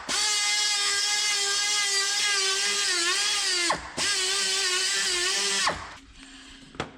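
A flap disc spins at a high, steady whine as it cleans up U-joint parts from a 1984 Chevrolet K20 truck, cutting out briefly twice before the whine winds down near the end.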